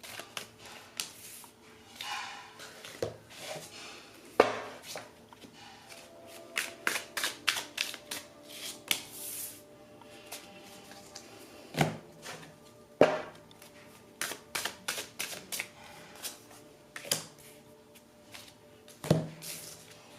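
Oracle and tarot cards being shuffled by hand, bursts of quick riffling flicks and soft slaps repeating over twenty seconds, close and fairly quiet, with no talking.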